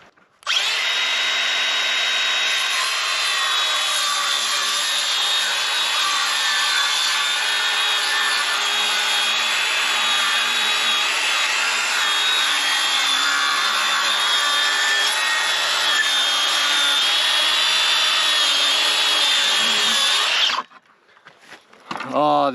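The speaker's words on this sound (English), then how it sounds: "If you're curious about what model of saw this is XSH03 brushless Makita 6 1/2 inch cordless circular saw." A Makita XSH03 brushless 6 1/2 inch cordless circular saw rips a long cut through wooden trim, whining loudly and steadily for about twenty seconds before spinning down.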